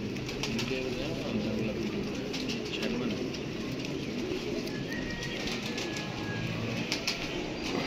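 Low, steady cooing from a flock of pigeons kept in a loft carries on throughout at moderate level, with faint voices in the background.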